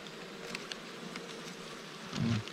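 Honey bees from a swarm buzz inside a fallen swarm trap caked with wax and honey, a soft steady hum that swells louder near the end.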